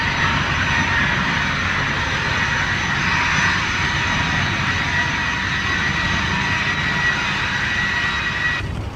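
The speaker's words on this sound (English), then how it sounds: "Paris lands at Heathrow in half an hour, courtesy of Aeroflot." Airliner landing at Heathrow, a steady loud jet-engine roar with broad hiss held throughout, heard near and alone with no voices.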